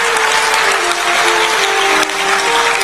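Audience applause at a Hindu devotional gathering in Jaipur, a dense, steady roar of many hands clapping together, loud and close, with a faint tonal hum underneath and no speech.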